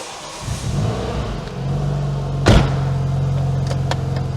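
A Renault Megane RS engine cranks and catches, then settles into a loud, rumbling idle. A sharp rev flares partway through before it drops back to an even growl, close by.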